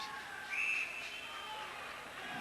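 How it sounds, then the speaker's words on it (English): A referee's whistle sounds once at a youth mite-level ice hockey final in Royal Oak, a short, fairly distant tone in the middle of rink noise and commentary. "We've got a whistle."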